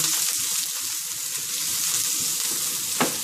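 A steak goes into a hot pan and sizzles right away, a loud, close, continuous frying hiss with one brief sharp spatter near the end. No one talks.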